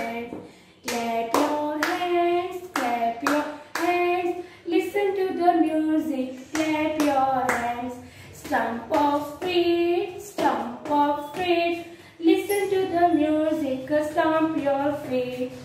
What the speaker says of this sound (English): Clap your hands, listen to the music,